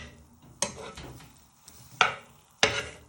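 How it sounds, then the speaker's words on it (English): Beef pieces fry in a pan for Mongolian beef, a soft sizzle running beneath three sharp clacks and scrapes as the meat is stirred and turned. "So once you start to get a little bit of sizzle, you just want to keep moving them about"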